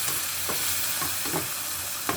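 Meat and onions with garlic and a splash of water sizzle steadily in a pot, while a spoon stirs through them with a few soft scraping strokes close by, and no one speaks.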